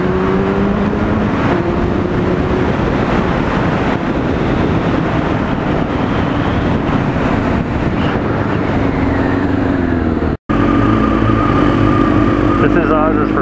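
A repaired Kawasaki Ninja motorcycle, an 900cc street bike, runs loudly on the road with a steady engine drone and heavy wind buffeting the microphone, briefly cutting out near the end before resuming.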